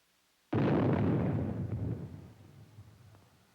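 A 280-millimeter gun-type atomic artillery shell bursting about 520 feet above ground in a 1953 nuclear test: one sudden loud blast that swells into a long, broad rumbling roar and slowly fades over several seconds, with no voices.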